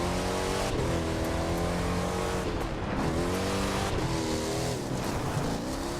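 A car engine in the racing game The Crew 2 revs hard with rising and falling pitch sweeps, loud and continuous, with brief tire squeals.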